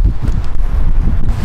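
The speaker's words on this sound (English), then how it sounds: "The wind is the bit I hate the most. It's very windy around here." Strong wind buffets the microphone outdoors in a windy city setting, a steady low roar with rumbling gusts throughout.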